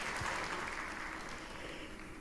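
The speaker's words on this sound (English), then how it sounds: "Clap for her again" Continuous applause fills a hall as an audience claps for a female medical doctor at a Merck Foundation First Ladies Initiative event, a dense, steady wash of many hands at even loudness throughout.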